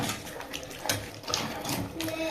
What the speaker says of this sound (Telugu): ఇప్పుడైతే మనం ఇందులోకి కొన్ని వాటర్ అయితే యాడ్ చేద్దాం.